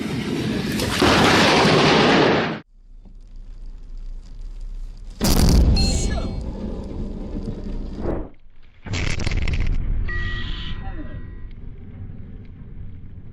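Thunder from a dramatic lightning strike arrives as a series of loud, booming blasts separated by brief gaps, each burst rolling on with a long crackling tail. Voices may be mixed in.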